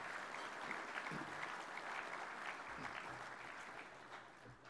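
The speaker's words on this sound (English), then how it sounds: "give them a round of applause as well." Steady round of applause from an audience at a football league awards night, with many hands clapping in a continuous wash that stays even and fairly distant, plus faint low murmurs underneath.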